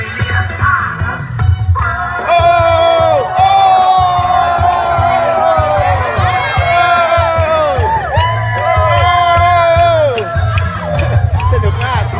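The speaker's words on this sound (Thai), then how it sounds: "ทุกๆ 500 เมตรเนี่ยเขาจะมีกองเชียร์ตลอด" Roadside cheering squad urging on marathon runners, loud crowd shouts, whoops and cheers swelling in waves throughout, close by, with voices calling out over the din.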